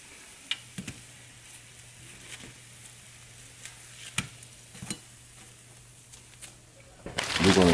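An egg fries in a pan right after being flipped, giving a soft, steady sizzle with scattered light ticks and taps, then a louder burst of crackling at the very end. No one talks.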